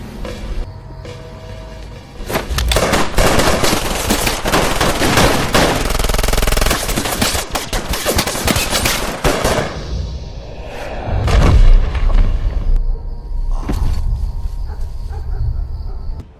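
Sustained machine gun fire rattles loudly through a film shooting scene, with dense automatic bursts lasting many seconds, then scattered heavy thuds and shots as the barrage tapers off.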